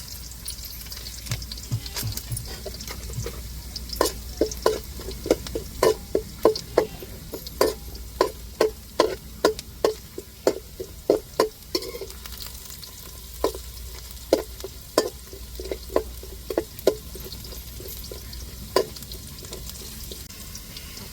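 Chana dal sizzling in hot oil in a pan, a steady low frying hiss punctuated by many sharp pops and crackles in an irregular rhythm, close and alone without talk.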